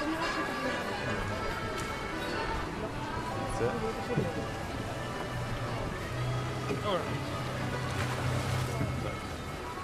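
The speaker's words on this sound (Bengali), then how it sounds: "চলুন গন্ডোলায় চড়ি, যা কিনা ভেনিসের এক সিগনেচার নৌকা।" A gondola glides along a Venice canal while water laps and sloshes steadily around the hull. A low hum and other busy outdoor noise run beneath it.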